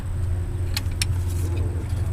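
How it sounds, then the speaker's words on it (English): A car passes nearby, giving a steady low engine hum and road rumble. A couple of short metallic clinks break in near the middle. "There's like a car driving around."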